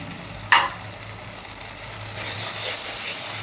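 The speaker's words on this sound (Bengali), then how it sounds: "ভালো করে নেড়ে চেড়ে আরও দু তিন মিনিট কষিয়ে নেব" Chicken being stirred and fried with ground cumin, coriander and chili powder in a pan, starting with a single scrape of the spoon, then a steady hiss of sizzling that swells toward the end.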